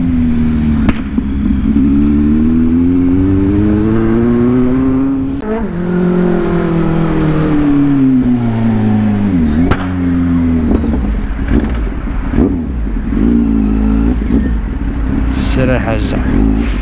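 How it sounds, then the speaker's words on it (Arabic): A Kawasaki Z800 motorcycle engine revs loud and close throughout, its pitch sweeping up and down repeatedly with throttle blips and gear changes during a test ride. "الموتور اللي ما عندكش مشكل راه تيدور بلايص بلايص مضيقه تيدخل فيها"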